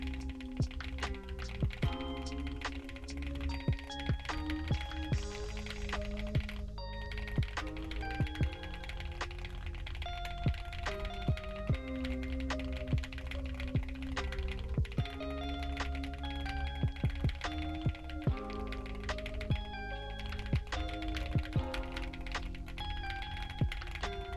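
Steady, fast computer keyboard typing during a Nitro Type online typing race, close and continuous clicking keystrokes with no talk.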